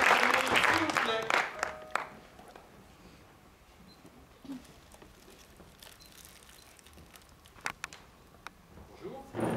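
Audience applause fills the first second or so at an improv theatre festival in Toulouse, loud and dense, then drops to a faint, scattered patter with a few sharp sounds over a quiet room.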